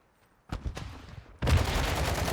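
Call of Duty Modern Warfare II DMZ gunfire: two or three close, sharp shots, then a loud sustained burst of rapid automatic fire.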